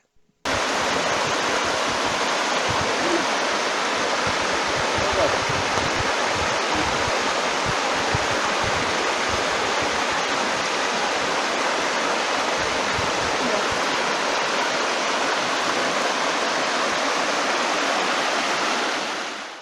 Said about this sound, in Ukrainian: Карпатські водоспади